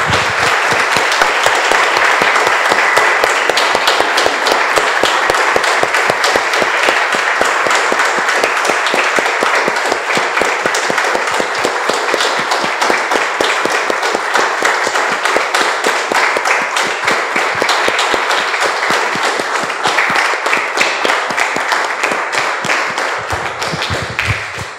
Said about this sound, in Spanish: Vamos a un aplauso, hermanos, al Señor.